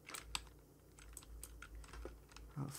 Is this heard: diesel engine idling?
no